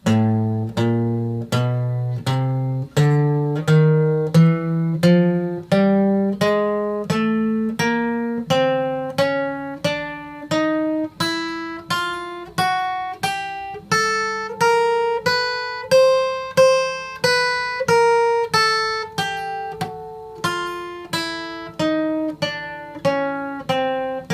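Single plucked guitar notes played one at a time in a steady, slow rhythm, each ringing briefly, climbing and then falling in pitch like a scale exercise.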